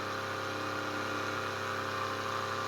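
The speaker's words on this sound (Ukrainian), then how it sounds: "коли працює даний генератор" A magnetic generator runs with a constant, steady mechanical hum and whir at even loudness throughout, close by and with no voices.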